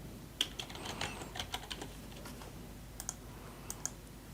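Quiet typing on a computer keyboard while entering a button label in Microsoft Access, a light, irregular patter of soft key clicks with a few sharper taps, close and alone.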